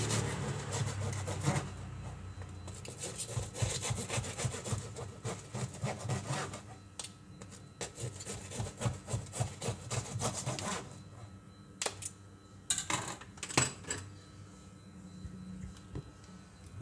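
A knife saws back and forth through a loaf of Bandung-style toast bread, giving repeated scraping, rubbing strokes that are close and fairly steady, with a few sharper knocks toward the end.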